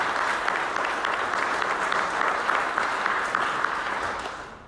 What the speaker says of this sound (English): if we can give them all a warm round of applause,